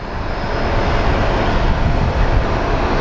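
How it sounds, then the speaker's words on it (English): A large airliner being pushed back at Phoenix Sky Harbor airport gives off a steady, loud broadband roar of jet engine and ground noise, heavy in the low end, holding level throughout with no talk. "another plane is being pushed out."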